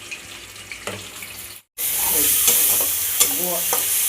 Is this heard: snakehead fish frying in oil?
yes